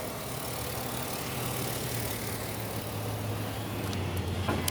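A 2007 Ford Ranger's 4.0 liter V6 with a K&N air filter idles in a steady, low, even rumble, heard fairly quietly and without talk.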